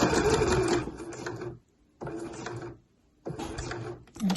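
A sewing machine runs stitching the lining of a slouch bag, whirring in three steady bursts separated by short pauses, close and clear with no talking.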